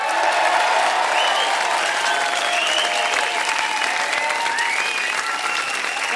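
A studio audience claps and cheers for Lou Reed on a talk show, a dense, steady burst of applause that fills the whole stretch without fading.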